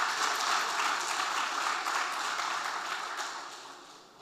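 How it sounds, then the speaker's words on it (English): An audience at a political party's public meeting applauds steadily, a dense wash of clapping that holds for a few seconds and then begins to fade. "Let's give her a round of applause."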